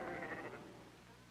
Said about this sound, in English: Settlers also brought long-fleeced sheep.